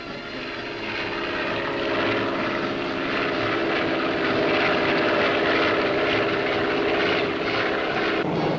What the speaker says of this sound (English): A speedy Cessna 210, still carrying its American registration, nears Adelaide and the Parafield light aircraft drone.